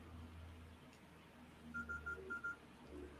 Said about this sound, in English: My phone is beeping at me.